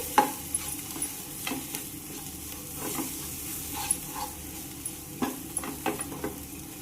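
Raw mango and chilli mix being stirred in a pan, a soft low sizzle under intermittent scraping and tapping of the spoon against the pan, fairly quiet, no voices.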